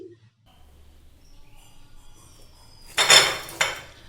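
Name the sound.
crispy fried flattened rice and potato kachoris being handled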